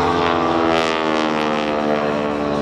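A Super Stearman propeller biplane roars past at an airshow, a loud, steady, buzzing engine and propeller drone with slight rises in pitch.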